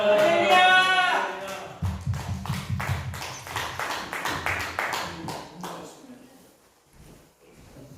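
A church congregation at a Korean prayer meeting applauding: a brief raised voice opens, then many hands clap in a quick, rhythmic burst for several seconds before fading out into quiet.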